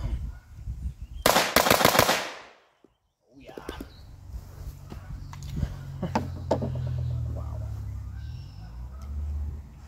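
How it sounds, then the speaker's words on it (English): A Zastava M84 machine gun fires a loud, rapid burst of close shots at an outdoor range, the burst lasting about a second before a brief silence, then muffled background noise and a few scattered distant shots follow. "let's try a little rapid fire, folks"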